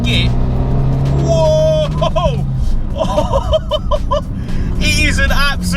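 An Abarth 500 tuned to 250 bhp pulls hard in third gear, its engine drone rising steadily inside the cabin while people exclaim and laugh over it.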